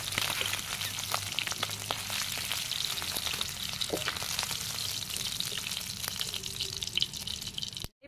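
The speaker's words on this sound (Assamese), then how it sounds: "এইফালে মাছ ভজা তেলখিনিতে কেইটামান পাঁচফোৰণ দি লৈছোঁ" Oil left from frying fish sizzles as panch phoron five-spice seeds are added, a loud, dense and steady crackling hiss close by with a few faint stirring clinks and no talk.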